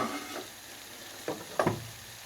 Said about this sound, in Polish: na tym oleju, na tej marynacie cebulę bierzemy, smażymy